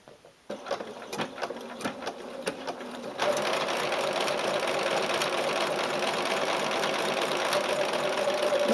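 A sewing machine stitches a fabric mask, first a few short bursts and clicks, then a continuous fast whirring run of stitching, close and steady.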